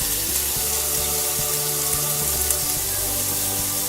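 Two slices of bacon fry in a pan, giving off a steady, close hiss and crackle that stays even throughout with no talking.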